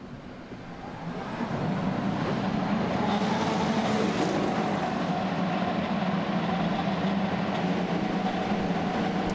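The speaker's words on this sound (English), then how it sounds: "Engines are fired. What a great sound that is to get our 2020 season kicked off" IndyCar race cars firing their engines together at Texas Motor Speedway to open the 2020 season, a dense, loud, steady roar with a rising start in the first seconds, then a continuous rumbling drone from many engines.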